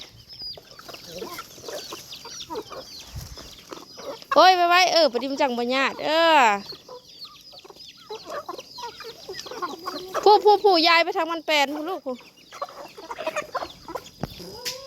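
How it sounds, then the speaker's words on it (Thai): Chickens squawk and call loudly at feeding time in two busy bursts, close at hand, while someone talks over them. "เดี๋ยวไก่มันก็มา"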